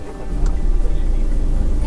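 A Peugeot car starts up and pulls away, giving a steady, close low engine rumble that swells slightly as it gets moving.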